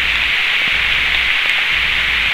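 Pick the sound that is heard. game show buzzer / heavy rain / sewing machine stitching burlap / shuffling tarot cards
heavy rain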